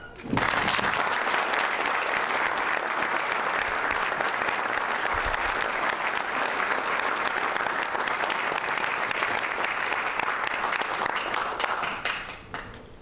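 An audience at an evening lecture in Lexington breaks into sustained applause welcoming the speakers, dense steady clapping filling the room for about twelve seconds before tapering off.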